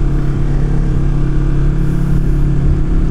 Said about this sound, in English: you can definitely hear those downshifts a little bit better